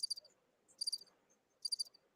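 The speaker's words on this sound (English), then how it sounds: "Where's the crickets?" Crickets chirp in three separate bright, rapid bursts spaced evenly apart, with faint quiet between them and no voices.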